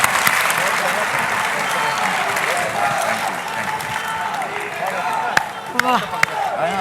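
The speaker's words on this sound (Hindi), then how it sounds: "एक बार आप सबके लिए मैं चाहूंगी जोरदार तालियां हो।" Loud crowd applause at a political event with the Delhi Chief Minister, steady clapping overlaid with cheers and voices calling out, a few sharp claps and shouts standing out near the end.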